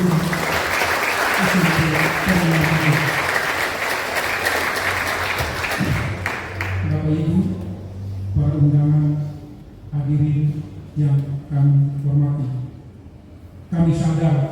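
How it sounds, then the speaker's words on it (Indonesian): An audience at a junior high school farewell ceremony in Jayapura applauds the teachers. The loud, dense clapping fills the first six seconds and then fades as amplified speech takes over. "Mari kita tepuk tangan untuk guru-guru SMP Taruna Mulia."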